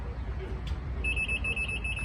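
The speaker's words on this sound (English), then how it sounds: "if you just press and hold for 3 beeps" A Nomad machine gives a single sustained electronic beep when its power button is held, a clear high tone over low background hum.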